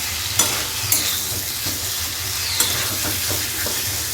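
Potatoes and pointed gourd being stirred and fried in a pan for a vegetarian dish, with a steady close sizzle and a few sharp spatula scrapes and clicks against the pan.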